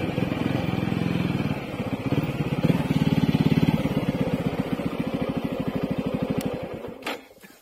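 Motorcycle engine idling close by on a rural road in Kavre, Nepal, a loud, steady rapid putter that revs slightly and then cuts off near the end.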